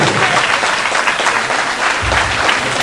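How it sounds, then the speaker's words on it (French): Dense, loud applause from an audience at an arts and culture award gala in Marrakech, continuous clapping filling the room for the whole moment with little else audible. "On peut l'applaudir."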